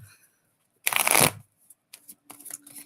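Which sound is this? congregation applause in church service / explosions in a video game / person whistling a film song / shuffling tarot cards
shuffling tarot cards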